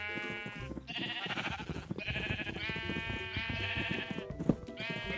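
A crowd of penned sheep in the Minecraft video game bleats over and over, several overlapping calls one after another, fairly loud and close, with no talk.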